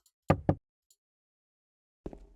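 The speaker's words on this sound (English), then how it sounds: "I knock on the door, but there's no answer." Knocking on a toilet stall door in the horror game Silent Hill 2: two quick, close knocks, a faint tap, then a muffled thud after a pause in near silence.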